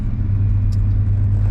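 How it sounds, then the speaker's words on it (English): A 1989 Chevrolet C1500 Silverado pickup engine runs steadily while driving, a low constant rumble heard from inside the cab with no voices. "I don't know how well you can hear the motor from in here, but it sounds pretty good"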